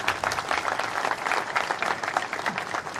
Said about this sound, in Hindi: जोरदार तालियों से उनके स्वागत होना चाहिए